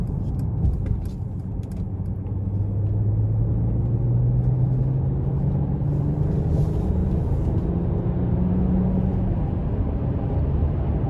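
A 2022 Mercedes-Benz S500 4Matic pulls away on light throttle, its turbocharged engine a steady low hum rising gently in pitch beneath continuous road rumble, smooth and subdued from inside the cabin.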